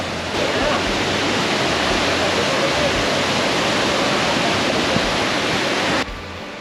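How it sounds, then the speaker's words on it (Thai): Water rushes loudly and continuously at the top of Tao Dam waterfall, a dense roaring wash that holds steady for several seconds before dropping slightly at the end. "อันนี้เป็นบรรยากาศของต้นน้ำตกนะครับ ที่จะเป็นต้นน้ำในการตกลงไปข้างล่างของน้ำตกเต่าดัน"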